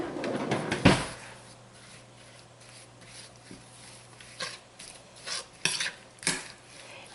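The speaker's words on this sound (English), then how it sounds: "now we're going to just stir them up" Peach and cherry pie filling with cornstarch stirred in a bowl, heard as scattered scraping and clinking of a utensil, with a sharp knock near the start and a few louder taps later, otherwise quiet.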